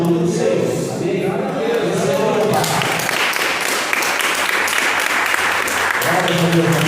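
During a healing and deliverance church service, the congregation bursts into a few seconds of loud, dense clapping between stretches of someone speaking at the start and end.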